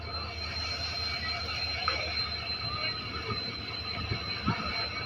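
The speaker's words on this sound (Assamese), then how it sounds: "লাহে লাহে আহি আছে ট্ৰেইনখন" A train rolls slowly into Nagaon railway station, a low rumbling drone with faint mechanical clanks and rattles from the wagons and a steady high whine above.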